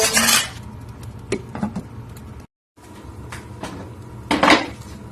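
Metal pot lid clatters onto a cooking pot of simmering beef, with several clanks and scrapes of cookware, a short gap, then another loud clang.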